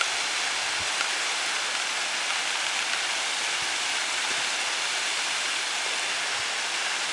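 Steady broadband rush of a waterfall at Shangri-La Arch in Carter Caves, Kentucky, heavy water pouring without pause, close and constant with no voices.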